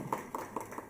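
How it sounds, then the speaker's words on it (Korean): A church congregation gives a short burst of applause during a Korean sermon service, with quick, evenly spaced claps heard faintly at a distance. "우리 하나님께 영광의 박수를 한번 올려드릴까요?"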